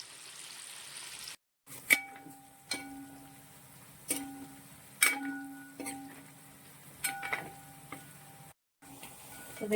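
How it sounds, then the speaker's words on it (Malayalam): Fish fries in oil with a soft sizzle in a pan while a utensil clinks and scrapes every second or so, with brief pauses in the sound. "ബാക്കിയുള്ള മീനും കൂടി നമ്മൾ വറുക്കാനായിട്ട് ഇട്ടിട്ടുണ്ട്"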